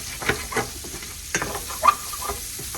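A spatula scrapes browned bits across a frying pan while a veal shoulder one-pot dish cooks, a few distinct close scraping strokes over a low steady sizzle.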